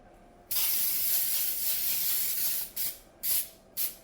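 Cooking spray hisses into a cake pan in a home kitchen: one long steady spray of about two seconds, then three short bursts, close and clear with no talking.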